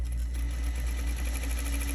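A sewing machine stitches through a T-shirt seam and elastic with a steady, continuous mechanical hum and fast repetitive needle ticking, close and moderately loud, with no talking.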